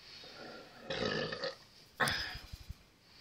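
A single loud, close burp after gulping cold beer, a short rough eructation followed by a few lower guttural pulses, with no talking.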